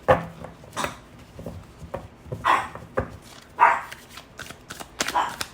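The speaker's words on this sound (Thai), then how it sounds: "ไม่เห่าลูก" A dog barks indoors in a few short, scattered bursts, spread irregularly among soft handling and shuffling sounds.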